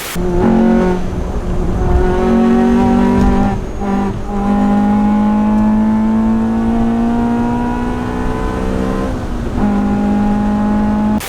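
Honda CRX with a VTEC engine revving hard, its sharp rising harmonic wail climbing steadily with brief drops between pulls, loud and close throughout with no talk.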